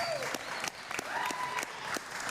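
Live crowd applause at a rally fills the whole stretch, a dense steady clatter of many hands with cheers and whistles rising through it, loud and close.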